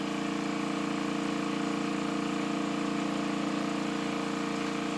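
A vacuum pump runs steadily during fibreglass vacuum bagging, pulling close to 25 inches of mercury: a constant, even mechanical drone with a steady hum and no breaks, close by and alone.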